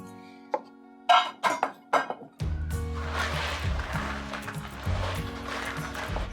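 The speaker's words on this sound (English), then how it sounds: "I'm going to mix all my Cheerios with my melted chocolate" Cheerios mixed into melted chocolate and peanut butter in a bowl, starting with a few sharp clinks, then a steady close rustling, crunching stir that carries on to the end.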